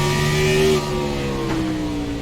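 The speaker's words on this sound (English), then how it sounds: "On board with Gray as you hear him working that throttle" A race car engine at Martinsville howls under throttle from on board, a loud sustained tone that dips and surges as the driver works the pedal.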